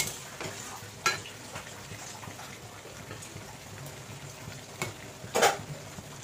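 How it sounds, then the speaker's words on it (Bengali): Mutton kosha stir-fries in a pan with Kashmiri red chili powder, giving a low, steady sizzle with a few sharp spoon clacks and scrapes, close but fairly soft, without voices. "দিয়ে আরও খানিকক্ষণ কষাবো।"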